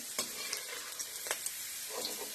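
Garlic and green chilies fry in hot oil in a pan with a steady close hiss and crackle, broken by a few light scrapes and pops, and no voices.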